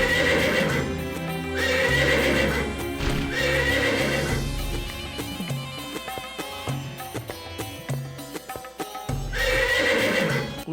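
A horse at the royal stables neighs loudly and more than once while hooves clip-clop under music, with a dramatic score running throughout.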